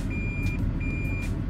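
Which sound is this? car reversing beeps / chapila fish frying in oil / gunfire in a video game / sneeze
car reversing beeps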